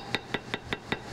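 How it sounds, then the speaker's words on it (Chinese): A wooden mallet taps a carving knife into leather in a workshop, five sharp, evenly spaced knocks about a fifth of a second apart, close and crisp over faint background hum. "木锤敲打雕刻刀所发出的声响传遍整个工作室"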